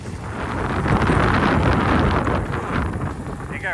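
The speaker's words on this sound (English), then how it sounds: "It got really windy now." Strong outdoor wind roars and buffets the microphone in a continuous loud rumble, with a voice briefly heard near the end.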